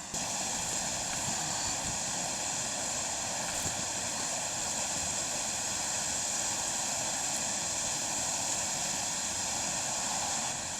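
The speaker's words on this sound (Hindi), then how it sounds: "दोस्तों, यहाँ झरने की आवाज़ बहुत तेज़ है।" A waterfall near a cave roars loudly and steadily throughout, a dense broadband rush of water filling the whole span with no talk heard.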